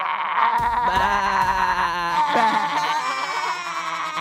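Goats bleat loudly and close up, wavering cries overlapping one another, with a sharp click or knock partway through.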